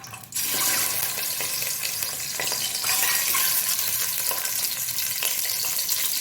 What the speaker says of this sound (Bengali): এই ডেকচিতেই আমি একবারে ভেজে দিচ্ছি